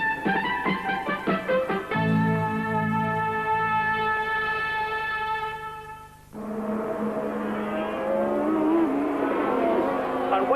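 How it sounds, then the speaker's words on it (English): Formula 1 race cars at the Monza Italian Grand Prix scream past one after another, loud, high-pitched engine wails shifting in pitch as each car goes by and fades, with a second car's note cutting in close behind. "waiting for Alan Jones to go through, and Jones does it now"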